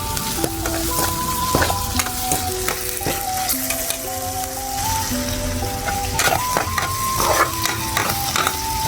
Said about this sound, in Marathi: तर आता आपण याच्यामध्ये आलं आणि लसणाचा पेस्ट टाकू